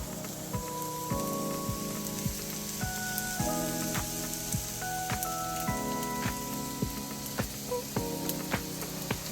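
Sausage sizzles steadily in a pan, a constant crackling hiss with small pops, while a plucked-string melody plays along at roughly even volume, no voices.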